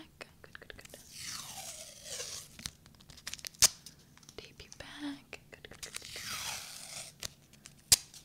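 Tape is torn off in a close, whispered setting, with two tearing strips and sharp crinkly snaps between them. A person whispers softly throughout.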